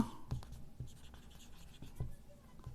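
Pen writing on paper during a Class 7 math lesson, soft close scratching strokes with small taps, quiet and continuous.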